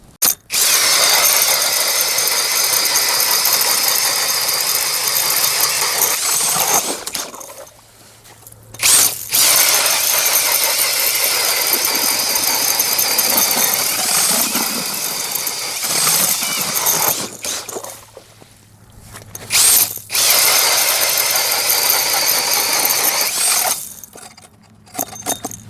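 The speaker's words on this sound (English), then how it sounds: "I'm gonna put the battery back on, see if we can get some more holes out of it." A cordless DeWalt or Ridgid Octane ice auger drills holes in ice, a loud sustained whining grind that runs for several seconds, stops, then restarts in long bursts with brief gaps between them.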